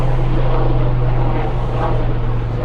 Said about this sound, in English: There's some helicopters going on.